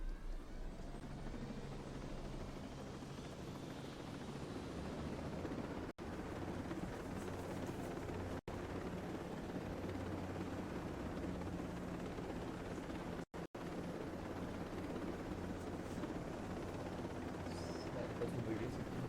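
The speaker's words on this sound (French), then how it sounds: "il y a un hélico, on peut prendre un hélico" A steady droning helicopter engine hum with a rapid rotor-like throb runs throughout at moderate level in a video game, briefly cutting out a few times; a voice talks over it.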